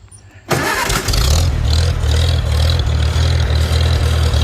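A Farmall Super C tractor engine in neutral cranks and catches after a quiet half second, then settles into a loud, steady low idle with an even rhythmic chug that continues to the end.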